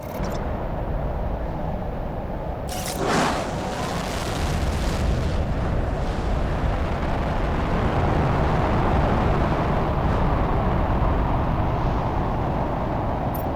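Rocket launch in the video game Planet Crafter: a sustained broadband roaring rumble with a sharp burst near the start, holding steady and loud for the whole stretch with no talk.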